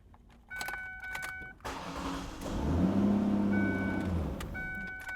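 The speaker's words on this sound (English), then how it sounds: "looks like all the keys start the car, so we're verified" A Ford car starts with a freshly programmed PATS key: a key jingles and clicks in the ignition, the starter cranks briefly, then the engine catches and idles steadily up close, with chimes sounding before and after.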